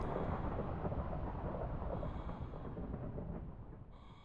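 A long Minecraft thunder roll rumbles deep and loud at first, then slowly fades and thins toward the end, heard alone without speech.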